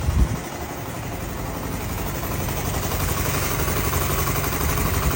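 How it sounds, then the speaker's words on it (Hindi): A motorcycle engine runs at idle after starting, giving a dense, steady, close-up chatter that holds at an even loudness the whole time, with no voices. "ये अब इसको स्टार्ट करते हैं हम, ठीक है। ये देखें, ये आइडियल स्पीड पे है तकरीबन।"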